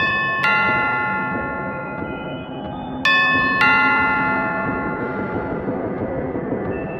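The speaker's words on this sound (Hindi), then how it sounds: "कानों में डोरबेल की आवाज़" A doorbell chimes as a sound effect: a bright, ringing ding, then two more closely spaced ding-dong tones a few seconds later, each decaying slowly over a low, steady background hum.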